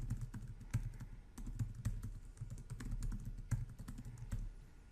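Fingers typing a password on a computer keyboard, a quick, uneven series of close, soft key clicks and taps, with no voices.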